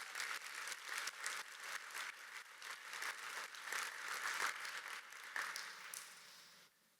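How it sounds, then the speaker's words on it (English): An audience at an innovation event gives a round of applause, with distinct, fairly quiet clapping that pulses unevenly and fades out at the close. "How about one more big round of applause for all of those 4 innovation stories?"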